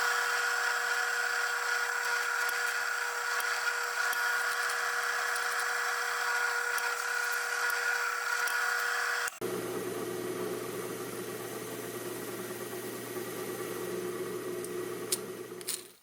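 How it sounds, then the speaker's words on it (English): Drill press boring into an old junk drill chuck: a steady motor whine with a bright, even tone that abruptly changes pitch and load partway through, continuing as a lower, rougher cutting drone until it stops. "I've already set the depth on my drill press so as to not let the bit bottom out"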